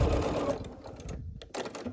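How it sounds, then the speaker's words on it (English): A sewing machine stitches a scrappy quilt block with a rapid, steady mechanical whir up close. The machine runs, briefly pauses, then starts again. "I just start sewing a little bit to hold it into place"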